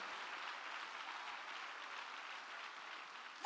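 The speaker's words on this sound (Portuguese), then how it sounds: "Pode aplaudir Jesus bem forte" A church congregation applauding during a sermon, a steady soft wash of clapping that sounds somewhat distant, ending with a brief louder burst.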